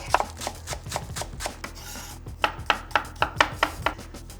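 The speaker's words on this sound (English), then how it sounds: "I'm just going to slice up some spring onions and garlic" A kitchen knife slices spring onions and garlic on a cutting board, giving a steady run of crisp, close chopping taps, loose at first and then evenly paced, with no talk.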